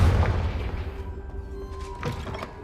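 A Confringo spell explosion in Hogwarts Legacy: a deep boom at the start fades out, then a second, softer thud follows about two seconds later.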